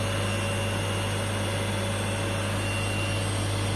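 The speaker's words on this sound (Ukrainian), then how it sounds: "це тільки шум йде, так як лопасті обдува." An electric motor salvaged from a washing machine runs steadily on a bench, its fan blades pushing air with a constant humming drone and broadband whoosh, loud and unchanging throughout with no speech.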